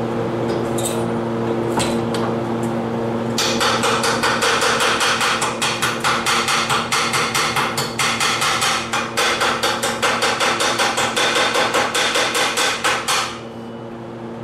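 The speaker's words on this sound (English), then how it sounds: "Bust off the slag and see what kind of damage we're doing." Hammer chipping slag off a fresh weld while building a steel mailbox, a rapid run of sharp metallic knocks, loud and close, following a few isolated taps, with a steady background hum.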